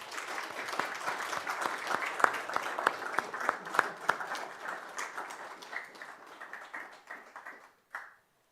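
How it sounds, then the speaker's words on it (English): Applause from an audience at a talk on the painter Lloyd Rees and architects, with distinct individual claps standing out over a smaller crowd; it thins and trails off near the end, finishing with one last isolated clap. "I would really like just to thank them and to applaud them"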